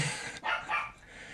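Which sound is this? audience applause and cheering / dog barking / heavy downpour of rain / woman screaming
dog barking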